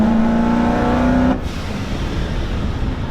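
A modified 1,000-hp 2017 Chevrolet Corvette Z06 engine revs hard on the road with a loud rising howl, then cuts abruptly to a lower, rumbling drone.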